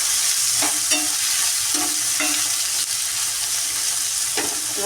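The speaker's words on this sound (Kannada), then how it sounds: "ಅರ್ಧ ಟೊಮೊಟೊ ಇದಕ್ಕೆ ಫ್ರೈ ಹಾಕ್ತೀನಿ" Half a tomato fries with onions in a pan for coconut rice, giving a continuous loud sizzle with occasional scraping stirs of a spoon against the pan.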